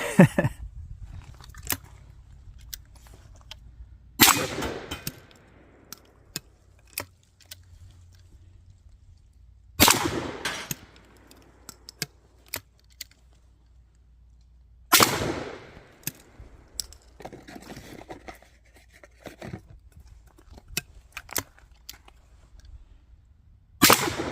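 NEF H&R Pardner 20 gauge single-shot shotgun firing 7.5 birdshot at targets about 15 yards away, five sharp loud blasts spaced several seconds apart, with small clicks and handling noises between shots.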